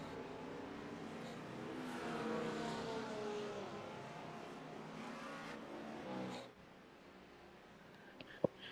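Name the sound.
BMW GTP race car engine at Sebring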